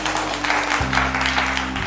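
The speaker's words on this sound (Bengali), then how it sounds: "হাততালি" Brief burst of clapping from a small group at an in-store family game show, continuous and moderately loud over a low steady hum, lasting under two seconds.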